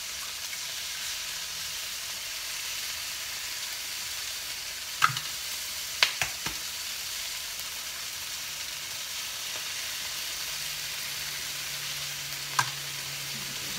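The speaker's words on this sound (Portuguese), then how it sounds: "Aí na própria, no próprio óleo, eu vou colocar o ovo." An egg fries in hot oil with a steady, even sizzle throughout, broken by a few faint clicks and taps.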